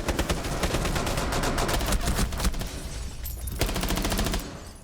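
Sustained automatic fire from an MPX submachine gun fitted with an extended barrel in a first-person shooter, rapid evenly spaced shots in long loud bursts with a brief pause near the end, no talking.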